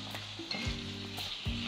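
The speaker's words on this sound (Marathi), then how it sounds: "आणि टोमॅटो ना हे छान परतून घ्यायचे 7 ते 8 मिनिट" Tomatoes sautéing in a pan give a steady, close sizzle with light stirring scrapes and a couple of dull knocks, with no one talking.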